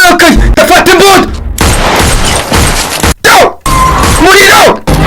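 Gunfire in a dubbed action movie comes as loud, dense bursts of shots and booms mixed with music, effects and a shouting voice, cut by brief silences.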